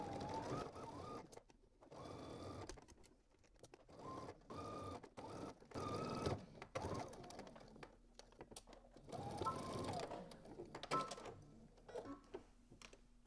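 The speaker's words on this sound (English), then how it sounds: "we're gonna go ahead and stitch using 5/8 of an inch seam allowance from one end to the other" A home sewing machine runs a long seam along a garment collar at a 5/8 inch allowance, its motor whirring in bursts with short pauses between, close and moderately loud.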